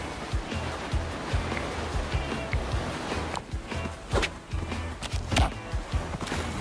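Water splashes and sloshes around a swimming character in the video game Party Animals, an irregular churning wash broken by sharper splash bursts.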